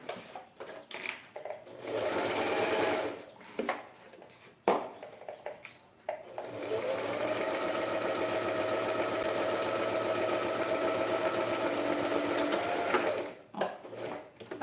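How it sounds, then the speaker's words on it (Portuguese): A sewing machine runs with its presser foot down, stitching a wine bottle holder in several short bursts. A long, steady, whirring run of stitching follows, close and moderately loud. "Então, eu vou iniciar aqui, ó. Costurando com o pé de máquina."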